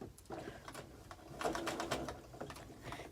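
A sewing machine stitches a table runner in short, quiet bursts of rapid clatter, with needle taps starting and stopping and sewing over pins.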